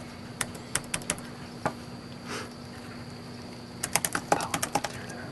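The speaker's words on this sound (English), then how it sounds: "It's not quite like a mechanical keyboard. You get the full click. But it's still got a nice good press, good tactile feedback." Keys are tapped on the built-in keyboard of a second-generation Razer Blade laptop: a few scattered clicks, a pause, then a quicker burst of soft, close key presses over a faint steady hum.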